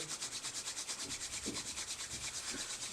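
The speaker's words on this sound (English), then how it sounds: "Rub the palms one more time." Palms rub together briskly in a quiet yoga session, a soft rhythmic swishing with fast, even strokes that carry on throughout.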